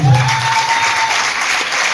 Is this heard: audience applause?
yes